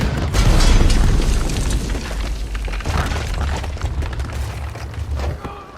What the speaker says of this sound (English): Arthur fires the cannon at Fusa's tower, destroying the tower and killing Fusa